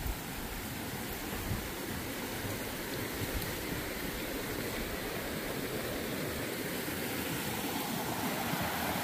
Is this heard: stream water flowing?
yes